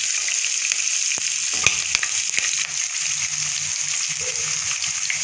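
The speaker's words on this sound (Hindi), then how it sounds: "जीरा तड़कने लगा है, अब इसमें हम लाल मिर्च भी डाल देंगे" Cumin seeds and chilies crackle and sizzle in hot oil for chole, a steady close frying hiss with scattered pops and a few utensil knocks.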